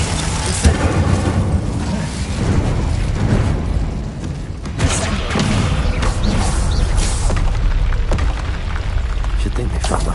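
An Incendio fire spell is cast in Hogwarts Legacy, with loud whooshing, booming bursts of flame over continuous rumbling combat noise and a sharp hit near the start and another midway.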